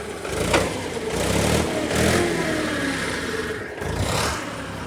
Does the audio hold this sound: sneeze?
no